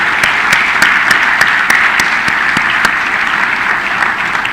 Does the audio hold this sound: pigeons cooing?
no